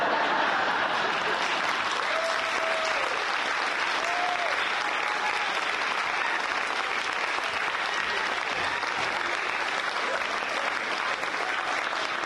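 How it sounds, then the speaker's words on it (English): Sustained crowd applause at a spring choral show after a joke, dense even clapping throughout, with a few faint voices and a whistle-like tone drifting over it. "No, stop. Stop clapping."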